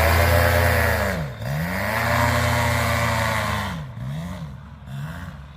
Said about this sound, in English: of me trying to do a full throttle start on a second flight, and it's just cutting out